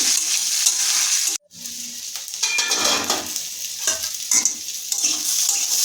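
Ivy gourd (kundri) being stir-fried with nigella seeds in hot oil, a loud continuous sizzle up close, briefly cut off for a moment, with scraping stirs rising and falling through it.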